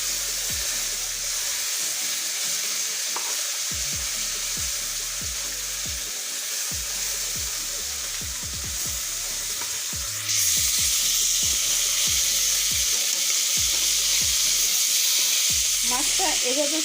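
Tilapia fish frying in mustard oil gives a steady, loud hiss of sizzling, joined by intermittent low thuds and scrapes in the pan; the sizzle briefly grows louder and brighter near the end.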